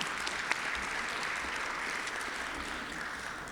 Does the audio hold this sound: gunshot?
no